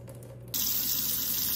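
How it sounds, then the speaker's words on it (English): Water suddenly starts flowing from a PUR filtration faucet, a steady bright hiss into the sink after a short quiet lead-in. "you'll see the filtered water begin to come out"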